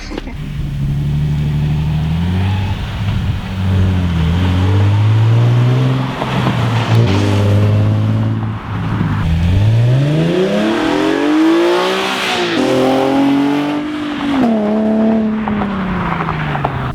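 Nissan 370Z with an aFe Takeda exhaust revving and accelerating, loud rising and falling engine tones through repeated pulls and shifts, close and continuous with no talk.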